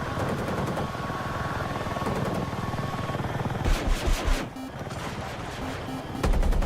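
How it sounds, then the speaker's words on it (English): A low-flying helicopter passes in a military shooter video game, its rotor drone steady through the clip while crashes and bursts of gunfire break in around the middle and again at the end. "Oh, that's a helicopter."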